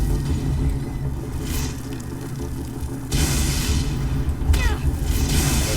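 A swirling, hissing Ice Storm spell from Skyrim surges in at mid-clip over a low rumbling game backdrop. It stays steady and fairly loud, with a few brief sharper swishes after it.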